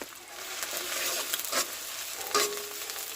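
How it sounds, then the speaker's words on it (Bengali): Chopped onion, about half a cup, dropped into a generous amount of hot oil for a bottle gourd and taki fish dish, giving a steady close sizzle with brief bursts of stirring scrape and crackle, no talking. "আর পেঁয়াজ কুচি দিয়ে দিচ্ছি, প্রায় হাফ কাপ মতো।"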